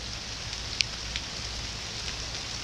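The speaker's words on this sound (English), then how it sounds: "allowing this rain to fall in the way it's falling" Rain falls steadily on scorched, thirsty ground during a drought, making a soft continuous hiss outdoors with occasional faint drip ticks.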